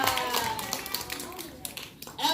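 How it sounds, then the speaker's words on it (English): An audience at a science museum show claps briefly, with a few sharp claps mixed in among people talking. "give her a round of applause"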